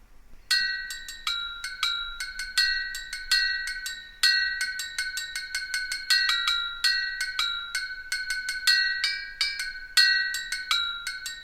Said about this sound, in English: Now the bell is moving around a bit.